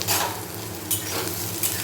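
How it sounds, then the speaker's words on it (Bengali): Close sizzling of instant Maggi noodles frying in oil with onion and garlic, with a couple of brief scraping stirs in the pan. "এটাকে প্রথমে কিন্তু ভালোভাবে ভেজে নেব ম্যাগিটা একটু ভাজা ভাজা বানাবো"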